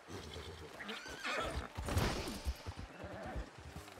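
A horse in Red Dead Redemption 2 gives a loud, drawn-out neigh, mixed with snorting and some hoofbeats around it.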